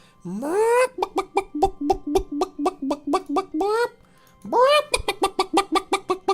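A person imitates a chicken with a voice, giving a rising squawk followed by a fast run of rhythmic clucks, a short pause, then another squawk and more clucking, loud and close.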